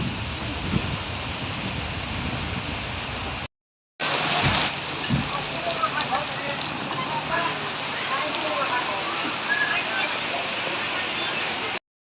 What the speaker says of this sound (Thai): ตอนนี้ฝนตกแรงมากเลยครับ